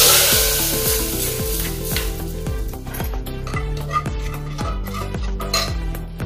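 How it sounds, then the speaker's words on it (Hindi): Hot tadka tempering with chili powder poured into cooked masoor lentil dal with fenugreek leaves, giving a loud, steady sizzle alongside clinking utensil and stirring sounds throughout. "इसमें हम डालेंगे दाल में अपना तड़का।"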